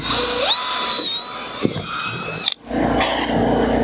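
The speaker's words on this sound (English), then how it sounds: "So now I'm going to drill a hole here, just one little pilot hole to make sure we're in the right spot." A power drill boring a small pilot hole into a shower wall panel during a Wetwall installation, a steady whining drill tone that shifts pitch, cuts out abruptly, then resumes close by.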